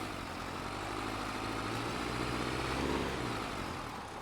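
Tractor engine in Farming Simulator, a steady low rumbling drone that swells slightly midway, running alone without talk.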